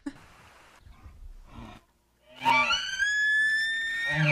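A voice imitates an elk call, a loud, high, whistling bugle that holds and wavers for nearly two seconds, preceded by brief muffled sounds and a short pause.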